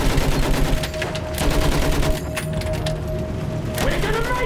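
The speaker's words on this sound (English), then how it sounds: "Fire at anything that moves!" Dense gunfire from the video game Battlefield 1, crackling shots and bursts layered over continuous battle noise and a steady tone, loud and unbroken throughout.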